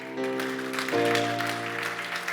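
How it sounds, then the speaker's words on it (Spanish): Church congregation applauding steadily during a Spanish-language service, with sustained instrumental chords playing underneath the clapping. "Denle ese aplauso fuerte al Señor."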